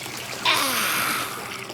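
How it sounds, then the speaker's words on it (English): Bubbly bath water splashes as a small mud-covered monster is helped into the tub, a sudden splash followed by a sustained wash of water that fades slightly. "Blue helped Oogla Boogla into the bubbly bath."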